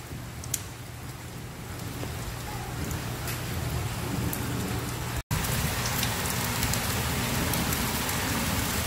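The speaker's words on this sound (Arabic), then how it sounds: "أمطار غزيرة مستمرة إلى الآن على منطقة جازان." Heavy storm rain pours steadily over Jazan, a dense continuous roar of drops on surfaces with low rumbling underneath, uninterrupted apart from a momentary cut partway through.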